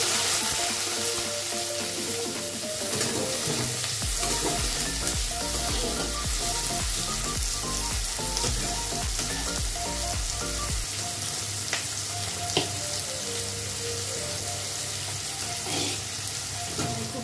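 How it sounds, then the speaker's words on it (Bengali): Onions frying in mustard oil with a dried red chilli, a steady close sizzle and crackle that runs the whole time with occasional clinks and stirring in the pan. Nobody speaks. "সরষের তেল দিয়ে দিলাম, একটা শুকনো লঙ্কা দিয়ে দিলাম, পেঁয়াজ দিয়ে দিলাম"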